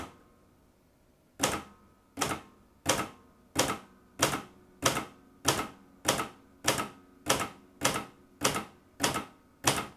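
A Royal 200 Mercury manual typewriter is struck key by key. After a quiet start, about a dozen crisp, evenly spaced clacks ring out close and clear in a steady, deliberate rhythm, with no talking.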